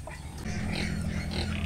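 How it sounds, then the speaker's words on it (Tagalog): Piglets in a pen bedded with rice hulls grunt and squeal in a busy, overlapping cluster, soft and close, continuous after a brief quieter start. "mga anak na baboy"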